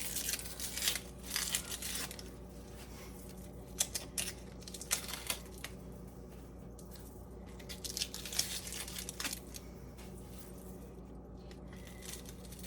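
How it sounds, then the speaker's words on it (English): Papery onion skin being peeled by hand, heard as faint, close crinkling and tearing in short irregular bursts. "So I'm just going to peel the onion."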